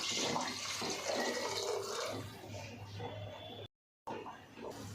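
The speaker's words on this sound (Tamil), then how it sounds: "தண்ணி சேர்த்துக்கலாம்" Water pours and splashes into a cooking pot for boiling pasta for a few seconds, a rushing gurgle that fades out, then breaks off briefly.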